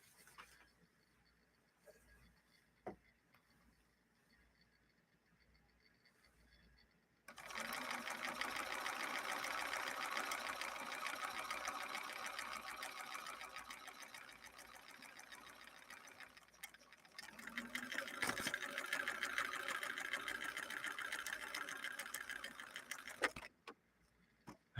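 A Bernina Record 930 Electronic sewing machine stitches pattern number 4, its motor running in a loud, steady whir with rapid needle ticking, pausing briefly partway through before continuing.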